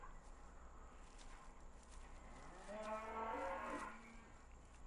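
Cows on a farm give one drawn-out low moo, fairly close, over faint steady background hum and a few soft shuffling sounds.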